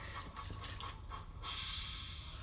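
Water poured from a bottle into a plastic training potty, a short trickling fill that swells into a steady splashing stream near the end, close and fairly loud with no talk over it.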